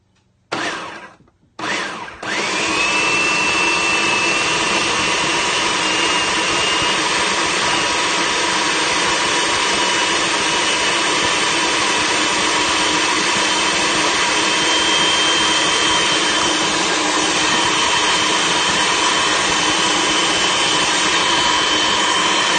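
A food processor runs continuously and loudly, blending almond butter and applesauce while milk is slowly added, starting with two short pulses before settling into a steady, high-pitched motor whir.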